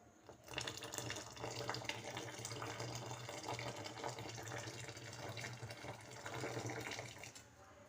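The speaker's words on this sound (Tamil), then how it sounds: "நான் இப்போ இதில் வெள்ளை கரைசல் சேர்க்குறேன்." White urad dal solution is poured into a thick, simmering black urad dal porridge (village-style kanji), giving a steady, continuous liquid pour and splash throughout, close and even, with no talking.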